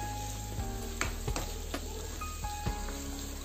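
Chicken liver with freshly added chopped tomato sizzling in a pan: a constant close frying hiss with several sharp clicks and scrapes as it is stirred, and no voices.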